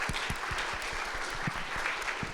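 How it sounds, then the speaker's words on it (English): Audience at a summer forum on Islam and Islamophobia gives a speaker a round of applause, dense clapping with a few heavier thumps mixed in, steady and moderately quiet, with no talk. "Let's give him a round of applause"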